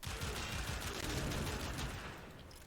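Rapid Pyrana Prime pistol fire in Warframe, tearing through a room of corrupted heavy gunners: a dense, loud, sustained barrage of overlapping shots with no pauses, easing slightly near the end.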